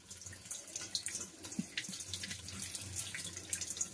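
Tap water running steadily from a faucet into a sink to rinse a bite wound from a four-month-old dog, a close, continuous splashing flow with small drips and no talking.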